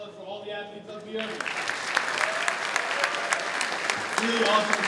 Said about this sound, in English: let's another big round of applause for all the athletes up here